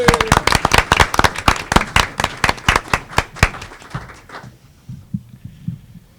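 Scattered hands clap at a school board meeting, a fairly regular run of sharp, close claps from a small group that thins out and fades after about four seconds.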